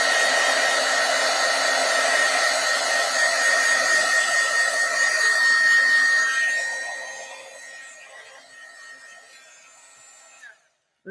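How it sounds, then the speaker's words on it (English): A heat tool blows steadily to set dark stamped ink on paper, a loud continuous whirring hiss that runs for several seconds, then fades as it is pulled away and switches off near the end. "I am going to heat set that dark ink just a little bit"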